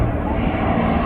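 Steady roar of a Eurofighter jet engine at the Royal International Air Tattoo 2022 airshow, loud and continuous without a break, with a low rumbling drone throughout.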